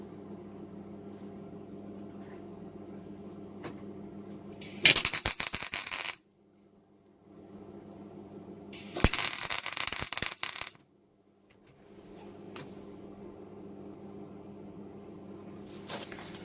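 MIG welding on the cast iron cylinder fins of a motorcycle barrel gives two loud, crackling bursts of a few seconds each, with a low steady hum before, between and after.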